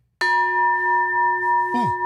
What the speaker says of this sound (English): It's the bottom of a fire extinguisher, and he turned it into a gong.